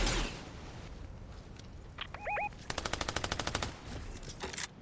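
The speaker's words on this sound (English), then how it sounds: "Someone's still fucking shooting at us." Fortnite gunfire: a rapid burst of about a dozen evenly spaced automatic shots, loud and close, preceded by a couple of single reports and a short electronic tone.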